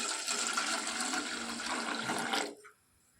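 Water is poured into a bowl of milk to make tea, a steady rushing splash lasting a couple of seconds before it stops abruptly.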